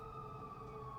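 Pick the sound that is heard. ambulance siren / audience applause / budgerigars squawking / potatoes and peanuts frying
ambulance siren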